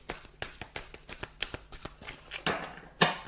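Playing cards being shuffled by hand for a tarot-style reading, a run of quick riffling bursts and soft slaps close by, ending in a sharper final riffle.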